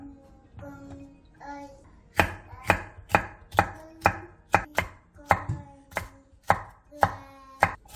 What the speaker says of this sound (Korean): 빨간 파프리카와 노란 파프리카 1개를 길게 반으로 자른 뒤 위아래를 반듯하게 자르고 어묵과 비슷한 두께로 채 썰어주세요.